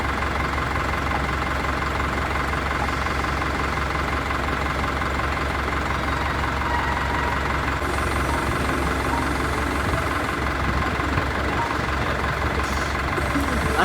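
A road work vehicle's engine runs steadily throughout, a continuous low rumbling idle with constant background noise and no clear change in pace.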